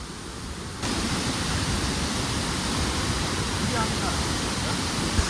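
Hidden waterfall in Karnataka roaring as a steady broadband rush of falling water, loud and close, rising suddenly at the start and holding constant, no talking.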